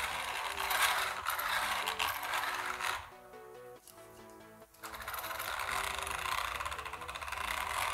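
Spiral cut ring and pinion differential gears turned by hand in a workshop, a close, quiet run of clicking, ratcheting mechanical ticks that slows and tightens midway before resuming.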